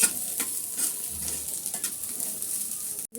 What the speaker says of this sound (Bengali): এখন ভালো করে একটু আমি তেলে নিচ্ছি, তেলের উপরে হালকা করে ভেজে নিচ্ছি।